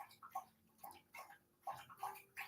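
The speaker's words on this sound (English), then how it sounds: "That's my dog drinking his water." A dog lapping water from a bowl indoors, a series of quick wet laps in irregular bursts, close and fairly quiet, with no talking.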